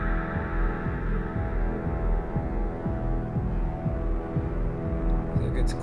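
Pulsing enemy-proximity cue from the Outpost Delta game soundtrack: a steady low throbbing beat repeating under a sustained droning ambient music bed, with faint high chimes near the end.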